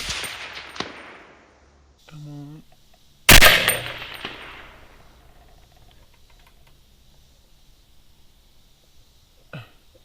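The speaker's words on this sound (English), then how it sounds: "I took a shot off the deck about 145 yards." A single sharp, loud 6.5 Creedmoor rifle shot fired at hogs from a deck at about 145 yards, preceded by a fainter crack and a brief vocal sound, with a long fading echo afterward.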